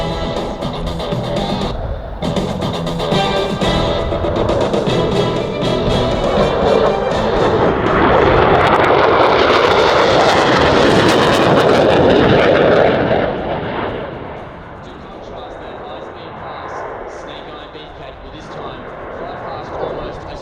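A Royal Australian Air Force Boeing F/A-18F Super Hornet accelerating past at over 1,000 km/h in a high-speed pass at an airshow, its loud jet roar building to a broad peak and then dropping away as it recedes.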